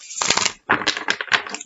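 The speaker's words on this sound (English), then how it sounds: "give the deck one last shuffle" A deck of tarot cards is shuffled in two quick rustling, riffling bursts separated by a brief pause, close and crisp.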